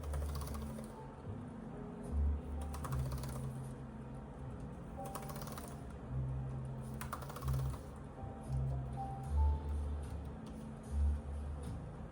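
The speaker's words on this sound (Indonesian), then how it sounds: "Selanjutnya kita coba tes keyboardnya." Typing on an Asus TUF A14 laptop keyboard, soft irregular key clicks tapping away close by over a low background hum, no voices.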